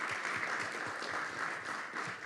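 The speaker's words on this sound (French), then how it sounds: "je vous propose qu'on puisse aussi remercier et applaudir nos intervenants pour ce qu'ils nous ont partagé aujourd'hui" An audience at a workshop applauds its speakers with steady, dense clapping that fills the room evenly from start to finish, with no voices standing out.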